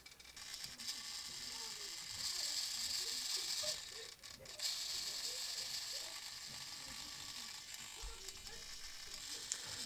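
Small servos on a Depron and balsa RC Douglas DC-3 model whir and click as they drive the flaps, a faint mechanical buzzing with short ratchety pulses repeating, close up.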